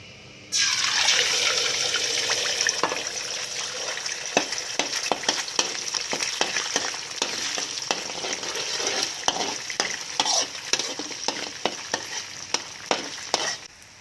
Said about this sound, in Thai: ตั้งน้ำมันให้ร้อน พอน้ำมันร้อนแล้วใส่ไข่ลงไปก่อนเลยค่ะ